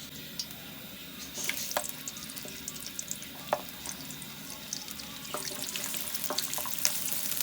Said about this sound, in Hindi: प्याज को फ्राई कर लेते हैं।